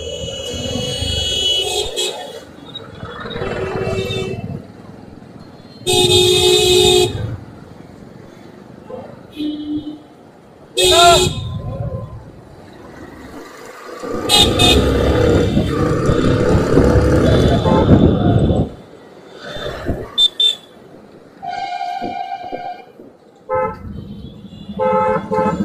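Busy city street traffic in India with several car horns honking in bursts, mixed with engine and road noise that rises and falls; voices talk at times over the traffic.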